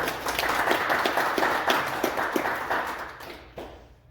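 An audience at a debate event claps, a continuous, fairly loud wash of applause that thins out and fades toward the end, with a last few scattered claps.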